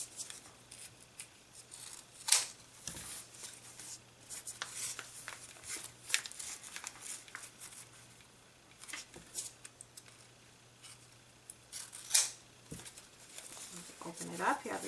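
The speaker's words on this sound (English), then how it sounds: "you just fold your ribbon in half and cut on an angle" Scissors snipping folded ribbon on an angle for fishtail ends of a chevron glitter cheer bow, a few quiet close cuts with light rustling, faint and sparse.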